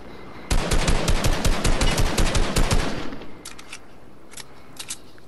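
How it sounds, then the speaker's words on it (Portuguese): Rapid bursts of automatic gunfire in a video game, aimed at a helicopter: about two and a half seconds of loud, dense machine-gun rattle, then a few fainter scattered shots. "Deu tiro no helicóptero."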